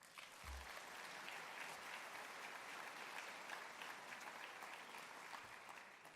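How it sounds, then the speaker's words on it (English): Sustained round of applause from a conference audience at the BARR National Conference, dense and even in volume throughout, with no voices over it. "give them one more round of applause"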